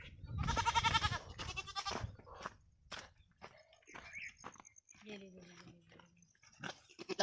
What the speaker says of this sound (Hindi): ये है 3 बकरियां हमारी